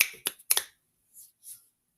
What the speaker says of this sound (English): Ready to snap your fingers